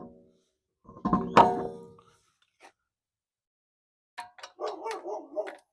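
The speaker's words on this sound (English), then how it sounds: "Oh, that's the dog." A dog barks twice close by, a sharp burst, then after a pause a quicker string of barks and yelps in a quiet outdoor setting beside a car being fitted with a repaired tyre.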